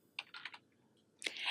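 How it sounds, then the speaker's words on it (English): A quick burst of computer keyboard typing, a few close, crisp keystrokes followed by a sharper press after a brief pause, in a quiet room. "So I'm going to type in budget and then just click Enter to save."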